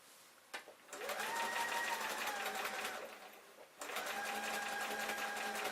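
A sewing machine straight-stitching jeans, close and steady: a brief start, a long whirring run, a short pause, then a second sustained run.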